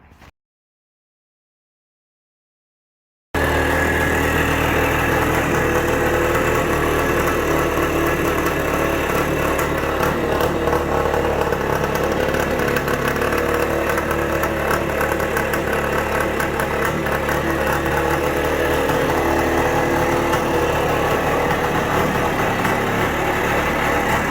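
Engine of a 1974 Bultaco Alpina motorcycle running in gear with the clutch not fully disengaging, a steady close idling chug that starts abruptly after a few seconds of silence and continues alone.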